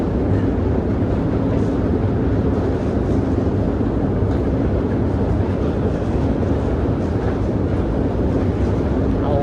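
Loud, continuous rumble of a metro train arriving at Arsenalna station in Kyiv, the world's deepest metro station, a steady low roar that fills the space without letting up.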